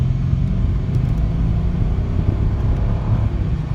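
A 2014 Mercedes E550 4matic accelerates hard from a second-gear start, its engine a steady, loud, low rumble heard from inside the cabin with no break.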